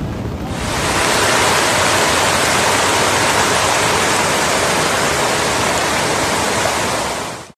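A swollen river in a Texas flood rushes in a dense, unbroken roar of water that swells up within the first second and holds steady, loud and close, with no voices.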